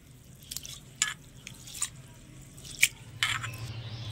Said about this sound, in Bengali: এবারে দিয়ে দিচ্ছি জল, আর এই জলটা দিয়ে সাবুদানাটা একটু ভালো করে ধুয়ে নেব